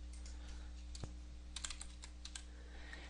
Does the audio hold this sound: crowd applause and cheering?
no